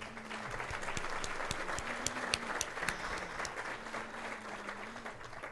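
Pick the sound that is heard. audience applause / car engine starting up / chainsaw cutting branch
audience applause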